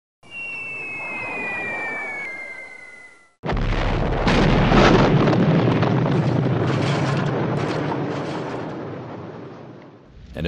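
In a B-17 Flying Fortress Leader board game, a bombing-run sound effect gives a droning aircraft tone, then a sudden heavy blast rolls into a long, loud rumbling series of explosions that fades out over several seconds.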